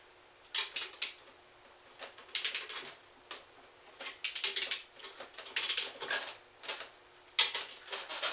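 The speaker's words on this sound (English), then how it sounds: "I'm going to set my torque wrench to the lower number of 94 or 95" A torque wrench ratchets on main bearing girdle studs in repeated bursts of quick, close clicking, with short pauses between strokes and no voices.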